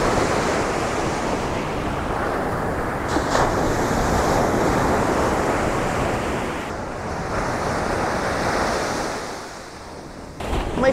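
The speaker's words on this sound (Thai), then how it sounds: "เดี๋ยวให้ดูคลื่นที่นี่ซะหน่อย" Ocean waves wash onto a small island beach in Hat Wanakorn National Park, Thailand, a loud continuous surf roar with some wind buffeting the microphone, with no voices.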